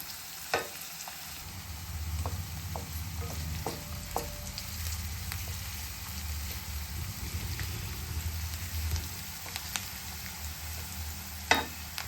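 Onions frying in a pan until browned for a bottle-gourd kofta curry, a steady low sizzle throughout with occasional sharp spatula clicks and pops, close and alone without talk.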